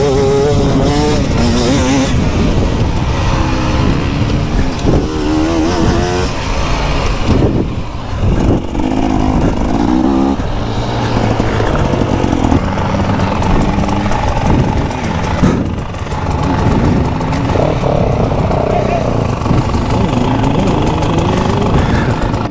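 Dirt bikes roar around a track during an endurance race, with engines revving and droning loudly and continuously as machines pass. A voice talks intermittently beneath the engine noise.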